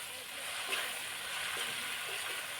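Potato pieces fry in hot oil with turmeric and salt in a pan, giving a steady, even sizzle throughout at moderate level with no talk.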